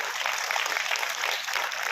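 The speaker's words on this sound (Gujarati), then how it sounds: "જોરદાર તાળીઓ થઈ જવી જોઈએ।" Steady applause from a crowd honouring police officers at an outdoor or hall ceremony, a dense and even clapping that lasts throughout with no clear voices.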